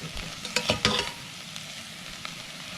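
Grasshoppers hitting hot cooking oil in a pan, a soft sizzle with a few sharp crackling bursts early on, then a quieter steady fry, close and without talk.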